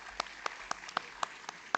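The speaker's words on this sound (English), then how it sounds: "A big round of applause, ladies and gentlemen." Sparse, faint claps at a university panel discussion, about seven evenly spaced hand claps from a small number of people, distant and quiet against a low room hush.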